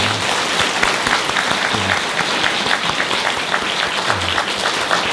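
Loud, continuous applause from a church congregation for their parish priest, many hands clapping steadily throughout about five seconds.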